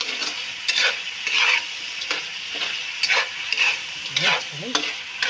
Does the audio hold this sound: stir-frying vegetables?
yes